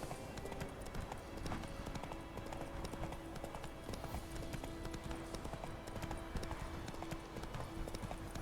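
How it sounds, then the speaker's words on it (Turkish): Horse hooves clip-clop steadily in The Witcher 3 video game, a continuous rhythmic trot heard up close over a faint ambient game background. "Whoa there, Roach. Move it"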